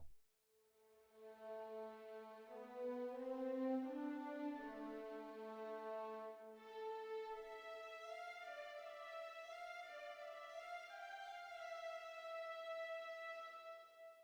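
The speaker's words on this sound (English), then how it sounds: "we have some legato patches" Legato string patch from the Spitfire Albion V library playing a smooth connected melody, notes gliding one into the next, first in a lower register and then rising higher, clear and alone.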